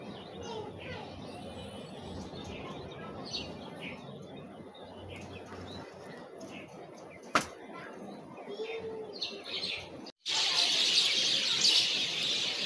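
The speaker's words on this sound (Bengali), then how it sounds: "আর চারি সাইডে দেখো মাশাল্লাহ পাখির ডাকগুলো শুনতে খুবই ভালো লাগলো।" Birds chirp and call all around an outdoor home setting, with a steady chorus of light tweets at moderate distance, one sharp knock partway through and a brief gap before a brighter, louder stretch of chirping.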